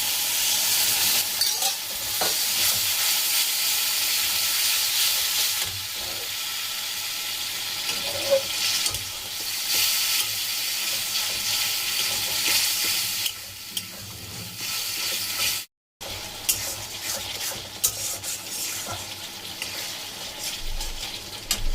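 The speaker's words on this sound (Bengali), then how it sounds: "মশলা কষানো হয়ে গেছে" Spice paste being stir-fried in a pan for a chichinga dish, with continuous sizzling and scraping stirs that stay fairly close and even, broken by a brief silent gap near the end.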